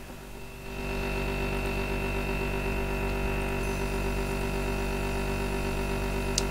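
A Purification Chamber machine in the modded game Minecraft Voltz gives off a steady refrigerator-like electrical hum with tonal overtones, starting after a quiet moment and holding constant and close with no talking.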